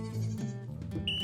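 Goats living free on an island bleat loudly and close by, one wavering call followed by shorter overlapping bleats from the herd.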